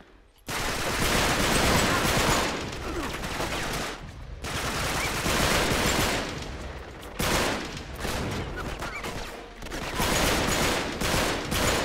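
Rapid, continuous gunfire from Uncharted 3 roars almost without pause, loud and close, with a few brief dips between volleys and no voices over it.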